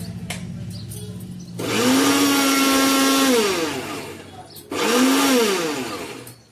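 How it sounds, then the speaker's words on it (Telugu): A kitchen mixer grinder whirs loudly as it grinds roasted ragi, rice and cashews into flour, running in two bursts with a rising, straining motor pitch and a short pause between them. "నీళ్ళు మసిలేలోపు పిండి మిక్సీ పడతా"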